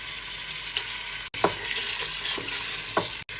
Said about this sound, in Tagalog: Igisa ang sibuyas.